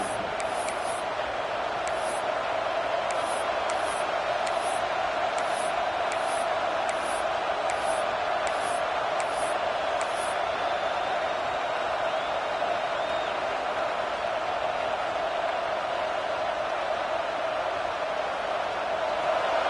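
A football stadium crowd at an Ohio State game, a steady loud roar of many voices filling the whole stretch, with a broadcast announcer's voice over it.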